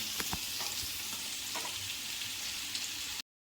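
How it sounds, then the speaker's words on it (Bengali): Steady, crackling sizzle of potatoes frying in hot oil, with occasional soft clicks of stirring, continuous and close, no voices. "এখন কিছুক্ষণ ভেজে নেব"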